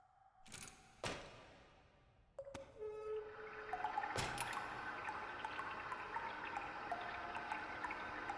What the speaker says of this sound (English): I don't know if turning the water on when the ghost is like a water ghost is a good idea.